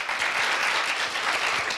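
A university festival audience applauding to welcome a pianist who will play an upright piano, a steady wash of many hands clapping at even loudness with no voices over it.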